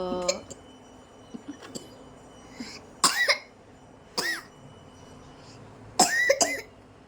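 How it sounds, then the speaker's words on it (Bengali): A child coughing deliberately after waking up, producing a series of short, forced coughs in separate bursts spaced a second or so apart, fairly close and clear in a quiet room. "এমনি এমনি কাশি নিচ্ছে"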